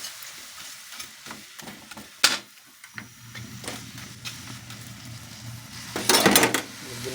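Buttered shrimp are stirred in a pan with occasional sharp scrapes and clinks of a utensil against metal over a soft, steady sizzle, with a louder burst of scraping near the end.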